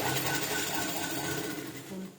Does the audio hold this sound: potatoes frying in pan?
no